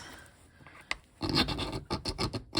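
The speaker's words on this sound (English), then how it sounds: "grind on that a little bit, and this one has a reddish brown streak" A mineral specimen is ground across a porcelain-style streak plate in a geology lab, a faint rub followed by a louder, close scraping rasp in several rough strokes.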